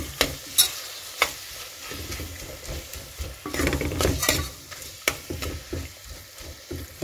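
Chopped tomato being sautéed and stirred in a pan for coconut milk rice, with a steady soft sizzle under repeated sharp scrapes and clinks of a spoon against the pan, no voices.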